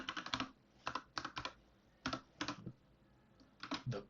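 Keys on a computer keyboard are tapped in short irregular clusters of crisp clicks, close and fairly quiet, with brief pauses between bursts and no talking.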